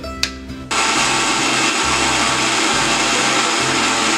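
A mixer grinder churns curd into butter, starting with a brief clatter and then running as a loud, steady whirring drone with slight pulsing, close up and without talk.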